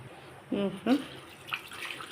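Tamarind water is poured from a glass into a pot of simmering fish curry, a short liquid splash and gurgle lasting about half a second, followed by softer bubbling and faint kitchen sounds.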